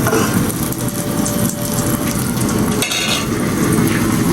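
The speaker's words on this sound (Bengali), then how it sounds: "রাত খাওয়ার জন্য ডিম ভাজি করতেছে একটা" An egg fries in a pan with a steady, loud sizzle that crackles throughout, with a brief scrape of utensils near the middle.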